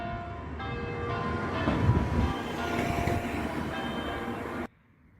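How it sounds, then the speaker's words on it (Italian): A church bell ringing continuously with dense, overlapping metallic tolls and a loud, steady wash of sound that cuts off abruptly just before the end. "sono accompagnato da questo splendido suono di campana"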